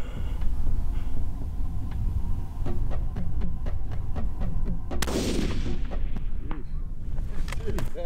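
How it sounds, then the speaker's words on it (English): A single sharp, loud report from a long-range hunting rifle fired at a springbuck in the Eastern Cape cracks out midway through a low, steady hum, with faint voices nearby. "That's a shot, mate."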